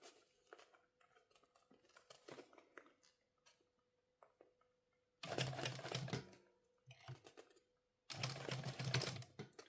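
Two loud bursts of a home sewing machine basting fabric pieces of a bum bag together, each running a second or so, separated by quiet handling clicks and rustles at the table.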